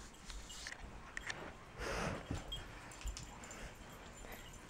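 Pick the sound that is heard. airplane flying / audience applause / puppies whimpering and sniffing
puppies whimpering and sniffing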